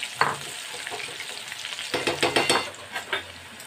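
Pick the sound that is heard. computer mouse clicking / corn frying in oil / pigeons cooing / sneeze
corn frying in oil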